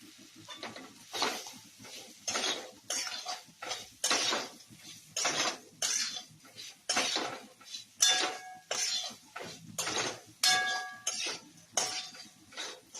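A spoon scrapes and clinks rhythmically against a metal pan while spices are stirred into food, a steady run of more than a dozen close, evenly spaced metallic strokes with no talk.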